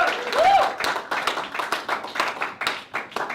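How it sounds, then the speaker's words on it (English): An audience claps for a stand-up comedian taking the stage, a steady patter of applause from a modest crowd, with a voice heard briefly at the start. "Please put your hands together for Aditya Sridhar"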